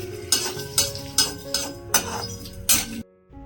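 Whole coriander, cumin and two dried red chillies dry-roasted in a pan, stirred in about six distinct, evenly spaced scraping strokes of a spoon against metal, close and clear, ending abruptly in near silence.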